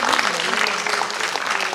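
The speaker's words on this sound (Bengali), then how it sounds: "জোরে হাততালি প্লিজ।" Crowd applause at an annual dance festival, a thick continuous rush of many hands clapping at steady volume for a short stretch, with faint voices underneath.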